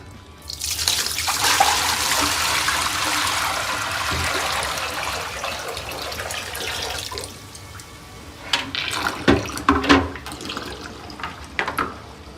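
Water from a dehumidifier's collection tank is poured out into a drain, a loud rushing gush for several seconds that tapers into splashes, trickles and the clatter of the emptied tank.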